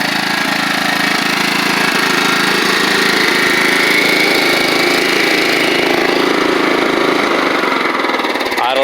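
A Toro Proline walk-behind lawn mower engine idling slightly rich after a new carburetor and spark plug, a loud, steady close-up drone with a constant rumbling pulse throughout.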